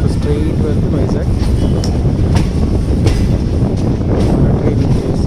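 A sleeper-class passenger train runs along the track toward Vizag with a steady, loud rumble and rhythmic clickety-clack of wheels, heard continuously from on board.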